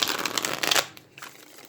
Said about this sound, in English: Just let me shuffle a couple of times.